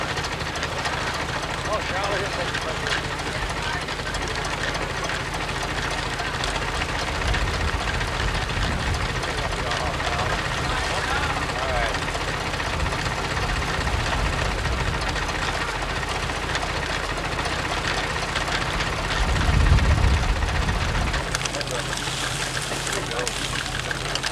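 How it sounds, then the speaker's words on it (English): A tractor hooked up to power a sugarcane juice press runs with a steady low engine drone, while people talk over it and a louder rumble swells briefly near the end. "Here they just hooked the tractor to it."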